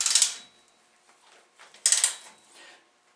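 A socket and a metric fiddle wrench turn a bolt on a dirt-drag motorcycle with a 13B rotary engine, producing two short bursts of ratcheting clicks, close and fairly loud, separated by quiet handling.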